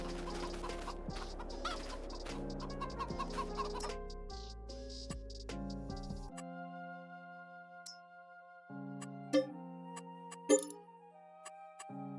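Chickens cluck repeatedly in Farming Simulator 22 over a steady synthesized musical backing, with scattered short clucks and a couple of louder squawks near the end.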